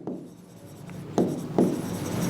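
A teacher writes accounting entries during a Class 12 lesson on issuing debentures, giving soft scratchy strokes on a board with two louder marking sounds close together, no speech.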